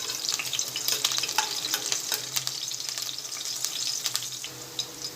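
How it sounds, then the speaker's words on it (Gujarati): Green chillies fry in about three spoons of hot oil in a kadai for papad poha chivda, giving a steady, close, crackling sizzle with small popping bursts and no talking. "એટલે આપણે પહેલાં મરચાંને તળી લઈશું"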